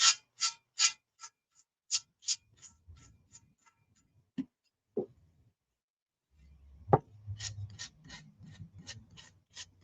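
Hand sanding on scrap wood: a run of short, dry scratchy strokes in a steady rhythm, a pause with a couple of knocks, then more quick rasping strokes.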